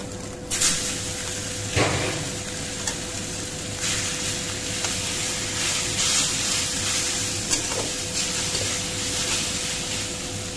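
Noodles go into a hot frying pan and are stirred through the oil, giving a steady close sizzle with scraping and clinking stir strokes throughout, no talking.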